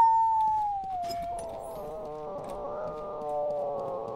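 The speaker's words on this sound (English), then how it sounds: "Magnificent howl." A howl ability firing in a tactical shooter video game, a drawn-out, falling tonal wail that settles into a rougher, rumbling sustained tone, moderately loud and heard alone without talk.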